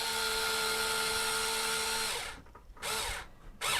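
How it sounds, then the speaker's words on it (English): A power drill drives screws into the mount of a Micro Air Easy Touch RV smart thermostat, with a steady close whir for about two seconds and then two short bursts after it stops. "And then we'll just put our screws in."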